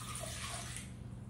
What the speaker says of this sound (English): But I'm going to pour the water back in